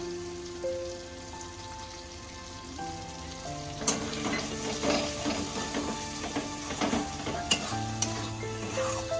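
A spoon stirs cashew paste into a sizzling paneer masala in a pan, with steady frying and repeated scraping and clinking strokes that grow busier and louder partway through, no talk.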